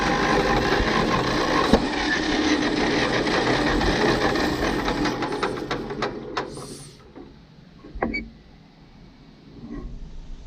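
A 1942 Farmall H tractor engine runs with a dense, steady mechanical clatter as the throttle is eased open slightly, then the sound thins out and drops away near the end.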